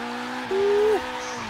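Tire squeal from a Nissan 240 sliding in second or third gear while street drifting in Forza Horizon 3: a steady high screech lasting about half a second rises over a constant engine drone, then cuts off.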